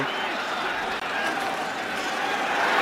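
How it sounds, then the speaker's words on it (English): Stadium crowd at an NFL preseason game between the Raiders and Rams cheering a Marshawn Lynch run, a steady dense roar of many voices that swells slightly toward the end, with no clear talk over it. "you hear from the crowd as he picks up 6 for the silver and black"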